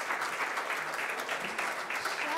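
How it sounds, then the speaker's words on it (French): Audience at a French sovereign-debt market conference applauds warmly, a dense, steady wash of many hands clapping at close range with no talk over it. "nous pouvons chaleureusement applaudir Madame Diaye-Diassé"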